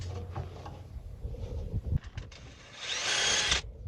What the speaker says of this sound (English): let me go get my drill real quick, and they're so rusty